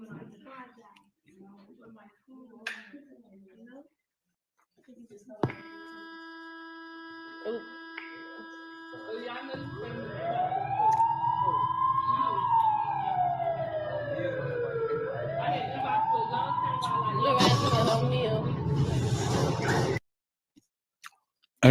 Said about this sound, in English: You heard the siren go off.